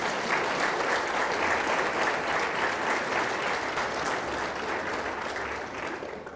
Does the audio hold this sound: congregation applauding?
yes